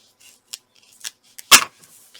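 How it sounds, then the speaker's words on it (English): Several short, crisp snips of long scissors trimming paper, irregularly spaced, with one louder, longer cut in the middle; close and otherwise quiet. "Nice long scissors."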